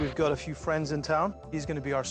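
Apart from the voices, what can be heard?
No everyday noises stand out.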